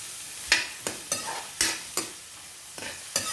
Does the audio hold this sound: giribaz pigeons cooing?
no